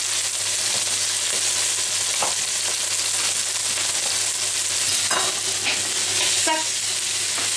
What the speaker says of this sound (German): dann kommen schon mal die Zwiebel und Knoblauch mit dazu und dürfen auch ein kleines bisschen anbraten